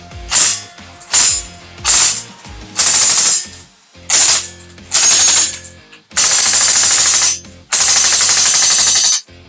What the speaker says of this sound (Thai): ให้เรากดยิงได้เลย จะไม่มีโหมดเซมีนะครับยิงออโต้อย่างเดียวนะฮะ